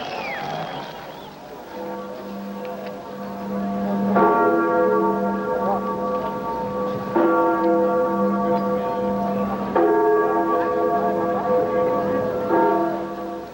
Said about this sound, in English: then there was the sound of freedom bells